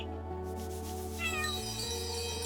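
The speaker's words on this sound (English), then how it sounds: "Hey, the kitty likes me." A cat meowing in the video game Chained Echoes, with a drawn-out meow heard over steady game music and ambient tones, moderately loud.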